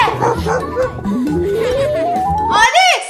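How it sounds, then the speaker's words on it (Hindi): A dog barks and yips in a few quick, close bursts, loud and clear over a bright musical backing with a rising tone. "ये तो कुत्ता है।"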